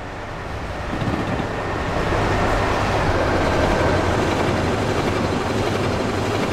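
A GG-1 electric locomotive on the Northeast Corridor runs with a steady, loud rumbling roar and a faint electrical whine above it, building slightly after the first second.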